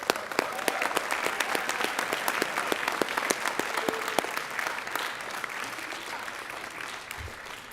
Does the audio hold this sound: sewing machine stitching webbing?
no